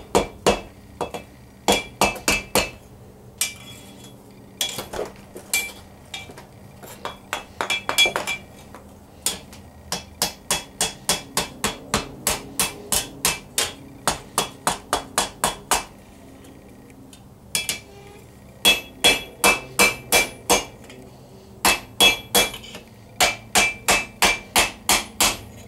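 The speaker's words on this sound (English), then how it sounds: "Again, we're taking a wooden hammer." Wooden hammer wrapping a metal Viking arm-band around an anvil horn: bright, clinking strikes in rapid runs and clusters, close and loud, separated by brief gaps, with no voices.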